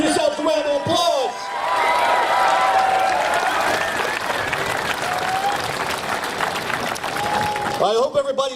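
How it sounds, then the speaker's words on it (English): Crowd applause at the Fort Lee Run for the Fallen 2019, a large gathering of runners clapping loudly and steadily with scattered cheers and whoops, swelling after a brief opening and fading near the end, with voices over it. "Give yourselves a round of applause."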